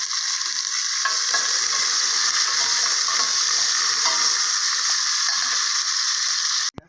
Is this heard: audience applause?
no